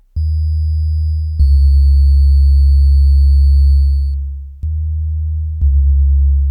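Wave 96 on a 3rd Wave wavetable synthesizer, a very clean tone: low, pure sustained notes in a few held steps, each starting with a small click, with a faint high whine above and no talking.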